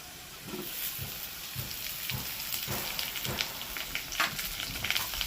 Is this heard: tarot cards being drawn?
no